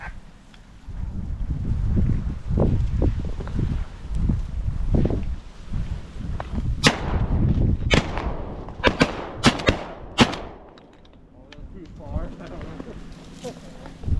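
Shotgun blasts from a dove hunt in open country crack out in a fast cluster of sharp, loud reports, mixed with wind noise on the microphone and nearby voices talking.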